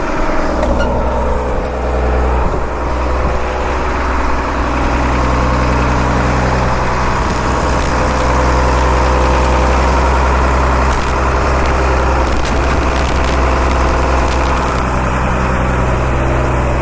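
A Global GL1800 deice truck's auxiliary diesel engine idles close by, a loud, steady low rumble with an even mechanical drone that holds unchanged for nearly seventeen seconds with no talking.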